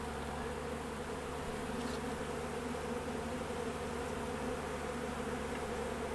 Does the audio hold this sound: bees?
yes